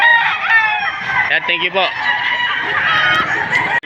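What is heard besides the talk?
gamecock rooster crowing, White Kelso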